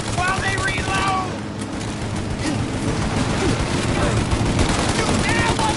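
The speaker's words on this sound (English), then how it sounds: "Shoot out your gun when there's a break in the fire!" A shootout in the video game Mafia Definitive Edition: continuous rapid gunfire crackles loudly alongside bursts of heavier shots, with shouting voices mixed into the din.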